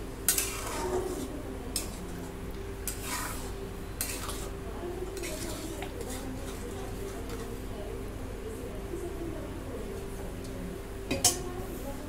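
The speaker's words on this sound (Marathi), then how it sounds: "मीठ मिक्स करून घेते" Salt being stirred into pav bhaji vegetables in a pan, with soft scraping and clinks of a spoon against the pan, a few sharper knocks early and near the end, over a steady low kitchen hum.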